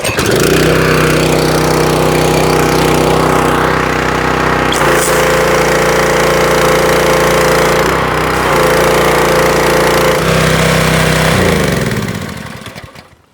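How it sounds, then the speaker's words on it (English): A pressure washer's engine runs loud and close with a steady droning roar, briefly dipping and recovering a few times before winding down at the end. "Okay, so let's start this and see what we get."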